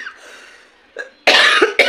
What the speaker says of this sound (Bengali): ওই খুব কাশি হয়েছে